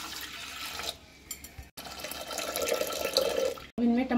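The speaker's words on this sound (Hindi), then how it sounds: "सबसे पहले कुकर में 2 कप पानी" Water is poured into a pressure cooker, filling it with two cups, producing a close, uneven splashing and gurgling stream with brief breaks and small clatters.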